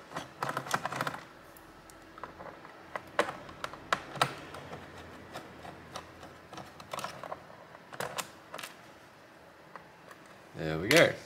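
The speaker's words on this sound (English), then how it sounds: "one screw down here that doesn't want to leave. I'll just keep unscrewing." Small screwdriver clicks and taps at a stubborn screw on the underside of an MSI GL75 Leopard laptop, a string of brief scattered ticks and scrapes with a louder rattle near the end, under intermittent talk.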